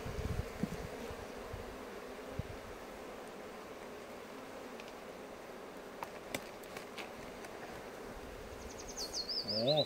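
Honey bees drone in a steady, moderate buzz while brood frames are lifted out of the hive one by one, with faint clicks and a brief rising whine near the end.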